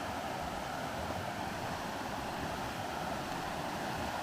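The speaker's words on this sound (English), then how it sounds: "Nice little set of rapids here." Steady rushing water from a small set of river rapids beside a sandy beach area in the Ellicott Rock Wilderness, a continuous broadband roar with no breaks, fairly close and alone without voices.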